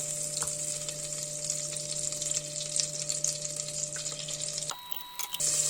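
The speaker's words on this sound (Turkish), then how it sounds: "Tencereye 1 yemek kaşığı tereyağı, 3 yemek kaşığı da ayçiçek yağı koyuyorum." Butter and sunflower oil sizzle in a pot, a steady bright crackling hiss that holds close and even before briefly dropping away near the end.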